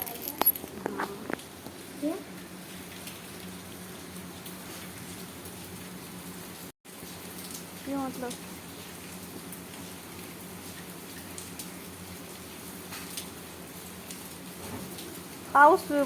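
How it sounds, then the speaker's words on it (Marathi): Steady, soft rain patters throughout in Mumbai, with a few faint chirps and distant murmuring voices. "पाऊस"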